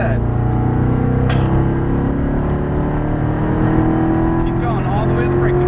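A Corvette Stingray accelerates hard around a race track at Exotic Racing in Las Vegas. The engine drones loud and continuous, its pitch climbing steadily, with faint voices underneath.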